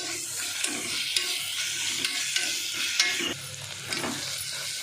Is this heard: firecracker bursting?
no